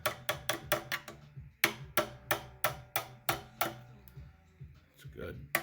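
A stuck part on a long-unused pressure washer is struck repeatedly back and forth, producing a fast series of sharp, close metallic knocks in two bursts, the second slower, with a brief pause between them.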